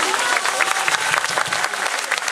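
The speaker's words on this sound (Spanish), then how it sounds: "un aplauso" An audience at a Pluma dance festival applauds the Pluma Dorada dance group, a dense, loud burst of clapping from a crowd that continues steadily throughout.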